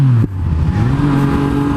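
A motorcycle passes close by a police station, its loud engine drone swelling briefly and then dropping in pitch as it goes by, with steady road rumble and no talking.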